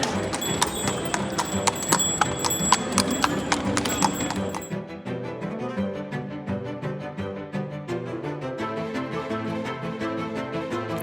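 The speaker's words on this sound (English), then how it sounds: "Here I almost got hit by a horse." Horse hooves clip-clop loudly and close on a Florence street, a steady clattering rhythm over street bustle with a few voices, easing into a busy background of ongoing hoofbeats and noise.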